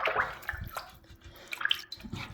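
A phone case is washed under running water, with splashing, dripping and sloshing in short uneven bursts, close and moderately quiet.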